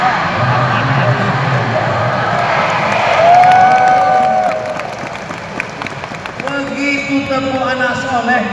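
Children in an Islamic kindergarten class (RA) do the rhythmic clapping chant "tepuk anak soleh" together, a busy crowd of young voices and claps with an adult voice heard over them.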